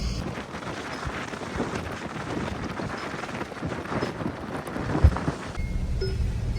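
Light rain falls outdoors in Kandi, a dense, steady hiss with gusty wind rumble that fills the whole stretch, with no voices.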